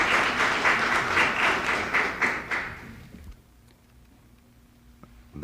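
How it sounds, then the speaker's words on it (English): A Senate hearing room in 1969 fills with warm, dense applause for a witness, fading out after about three seconds into quiet room tone with a faint thud or two. "That applause for a witness in the usually jaded setting of a Senate hearing room is almost unprecedented."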